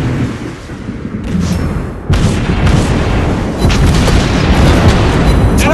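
Naval gun shells striking an enemy ship in the World of Warships Blitz game: loud, booming explosive impacts in several heavy bursts, one sharper blast partway through, then a sustained rumbling roar.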